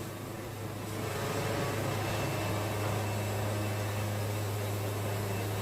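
A sawmill blade cuts through big cypress boards, a constant loud whining, droning roar that holds steady after a brief quieter start.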